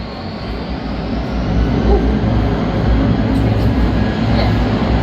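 At Heathrow, a landing airliner fills the scene with a loud, broad engine roar that builds and holds steady and fairly close. Faint voices can be heard underneath it.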